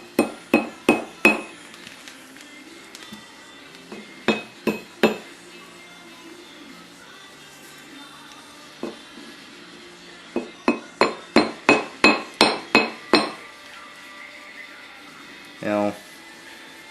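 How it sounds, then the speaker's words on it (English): Sharp metallic taps from a brass hammer striking engine parts during the build of a Blockzilla junior dragster engine, struck in quick bursts of three to eight evenly spaced blows separated by pauses, close and distinct. "If you have a brass hammer or a brass drift, that's all you really want to use. You know, if you need to tap"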